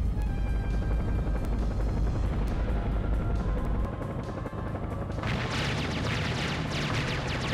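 Enemy attack helicopter in the PS2 game Seek and Destroy, a continuous low rotor thrum that gives way midway to a loud burst of gunfire and explosions, crashing and booming over the ongoing engine noise.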